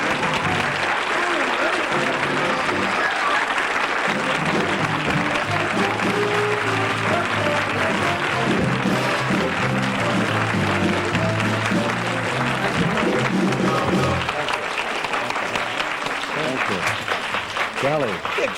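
A 1969 television studio audience applauds and cheers steadily for a guest's entrance on a talk show, a loud, dense wall of clapping lasting nearly twenty seconds, with a band playing underneath.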